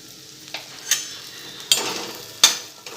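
A spoon stirs kantola (spiny gourd) curry in a pan, giving four or five distinct scraping strokes over a low background sizzle, close up and with no talking.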